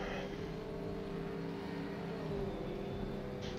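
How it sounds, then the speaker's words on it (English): LMP1 race car engine in rFactor 2 during a 24 Hours of Spa practice session, droning at a steady, fairly constant pitch throughout with a continuous buzzing tone and no breaks. "car sounds different because it's actually an LMP1 sound"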